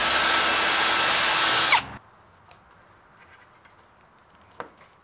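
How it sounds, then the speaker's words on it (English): A power drill whines loudly for under two seconds while boring a hole through the top of a homemade fishing device, then cuts off, leaving faint handling clicks and a small knock. "So we're gonna drill that hole now."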